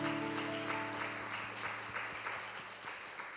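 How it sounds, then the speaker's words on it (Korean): A congregation at a church youth summer camp evening service applauds in praise. The clapping is faint and distant, set against a steady sustained musical drone from a keyboard or organ. "영광의 박수 올려드립니다."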